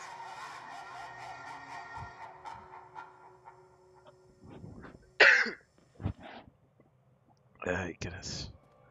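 Several harsh coughs come in separate bursts close to the microphone during a session of the horror game The Park, after quieter talk and game sounds.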